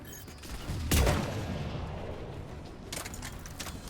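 Gunfire in the video game Mass Effect 3, a sharp burst of shots with a boom near the one-second mark followed by a decaying rumble, then a few more quick cracks toward the end.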